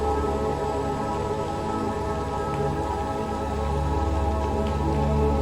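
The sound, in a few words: gentle rain falling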